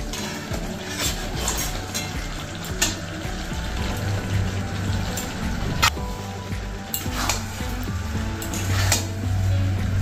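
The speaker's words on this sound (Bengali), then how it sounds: "দেখো বন্ধুরা এই যে দুই ধরনের ফুলকপি আর মটরশুঁটি ভেজে রেখেছি, এইটা এবার এই গ্রেভির ভিতর দিয়ে দিচ্ছি" Fried cauliflower and peas tip into a pan of gravy with a continuous close sizzle, broken by occasional sharp scrapes and clinks of a utensil against the pan.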